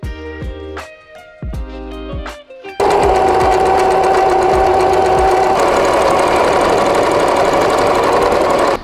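A sewing machine stitching along the edge of a fabric strap for a puffy handbag, first in short stop-start bursts, then in a loud, steady run of rapid, even needle strokes.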